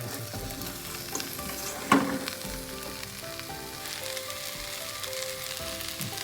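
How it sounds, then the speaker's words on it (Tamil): Squid and small pieces of tomato fry in a pan, a steady close sizzle with the scrape of stirring and one sharp clatter near the two-second mark, with no voices. "ஒரு 5 நிமிஷம் இது வறுத்து கொடுத்துருப்போம்."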